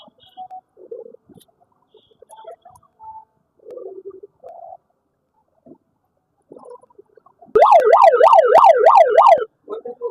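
A handheld megaphone's built-in siren, tested in a household goods shop, wails loud and close in rapid rising-and-falling sweeps for about two seconds, after quiet stretches of faint talk and small noises.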